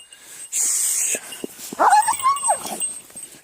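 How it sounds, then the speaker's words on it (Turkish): A female dog snarling and yelping in a scuffle with other dogs, a sharp whine bursting out loud at the start, then rising whimpers and growls close by, with rustling movement throughout. "kancık çok fena saldırıyor"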